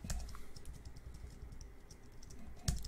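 Typing a prompt on a computer keyboard for ChatGPT, a brisk close run of light key clicks ending in a louder thump like a pressed key, with no talking.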